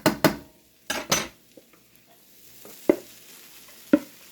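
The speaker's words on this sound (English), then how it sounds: "We've got a little bit of a sizzle on" Cooked rice sizzles faintly in a frying pan while a utensil stirs and taps against the pan, a few sharp scraping knocks over a soft, quiet frying hiss.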